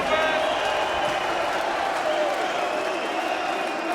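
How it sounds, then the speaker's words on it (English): A big darts-match crowd roars and applauds after a break of throw in a World Cup of Darts game between Germany and Singapore, a sustained wall of cheering and clapping at an even, loud level throughout. "And Germany break the throw and the crowd go wild."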